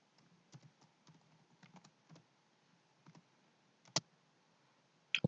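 Keys on a computer keyboard are typed in short uneven bursts of soft clicks to enter a command, with a few louder isolated taps near the end, close and quiet in a silent room.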